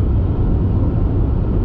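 Steady, loud cabin drone inside a 2021 Toyota Aygo X-Trend with a five-speed manual, cruising on a motorway at 70 mph: a continuous low rumble of road and engine noise with no pauses.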